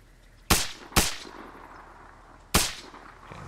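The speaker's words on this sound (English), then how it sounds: "I think I'm just gonna shoot him in the head." Three sharp gunshots in Arma Reforger, two in quick succession then a third after a pause, each a loud crisp crack with a short ringing tail.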